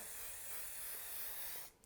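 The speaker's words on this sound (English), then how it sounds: "So another round of hairspray, or fixative if you've got something a bit more professional." A continuous close hiss of hairspray used as fixative on a soft pastel drawing of an apple, one steady burst lasting nearly two seconds before cutting off.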